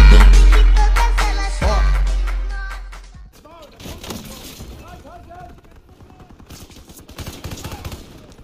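Rapid bursts of Call of Duty: WWII gunfire with heavy booming shots at first, then scattered lighter pops and effects as a voice talks over the action.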